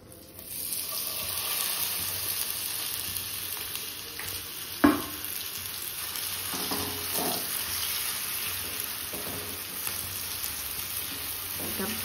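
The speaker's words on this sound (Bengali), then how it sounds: "এটা ভালো মতো এবার ধীরে ধীরে ফ্রাই করতে হবে।" Taro paste with turmeric, chili, garlic paste, salt and a little sugar frying slowly in oil in a pan, a steady soft sizzle throughout with a few stirring scrapes and a brief clack.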